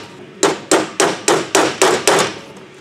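A hammer drives a Torx bit into a stripped Allen bolt on a Yamaha YZ dirt bike cylinder, seven loud, sharp metallic blows in a steady rhythm, close up with no talk.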